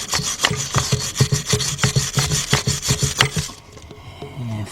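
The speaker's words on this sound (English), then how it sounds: "All right, so let's do a little scraping and clean this up." A hand scraper rasps rhythmically over an engine water pump housing to clear old gasket residue, about twenty quick close strokes before the scraping stops and a quieter rustle follows.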